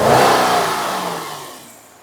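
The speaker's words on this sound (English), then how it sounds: "Rev it up." A Jeep engine in a repair shop, running badly, revs up loud and close, then winds down steadily over about two seconds with no voices.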